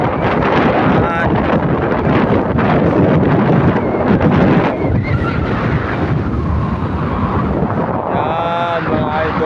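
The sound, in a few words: wind blowing at a seaside lookout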